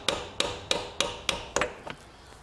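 A hammer taps a part gently during a Citroen C5 clutch replacement in a garage, six evenly spaced metallic knocks followed by two lighter quick taps, close and alone.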